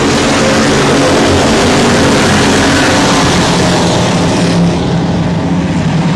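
A pack of race cars roars hard off the start at I-37 Speedway, a dense, loud, continuous engine wall that stays thick for several seconds before thinning slightly at the end, with no voices.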